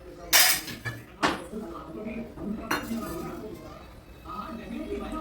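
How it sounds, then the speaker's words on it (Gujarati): Dishes and utensils clatter in a home kitchen as a mother sets down pots and plates, several sharp clinks and bangs early on, then softer handling beneath quiet background talk. "હવે મમ્મી પણ અહીંયા વાસણ મૂકીને ધરાવે છે."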